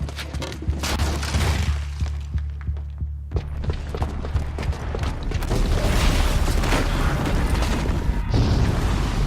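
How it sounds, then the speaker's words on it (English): A booby-trapped bomb going off in the Horizon Zero Dawn video game, heard as a sustained low throbbing rumble with mechanical creaks and booms that swells louder toward the end, with no talking. "the booby trap on the bomb downstairs is gonna get set off"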